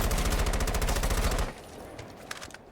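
Rapid automatic gunfire in Rainbow Six Siege, a loud, fast burst of shots that cuts off sharply after about a second and a half, followed by a few fainter scattered shots in the distance.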